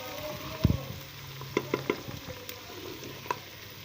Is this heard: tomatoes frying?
yes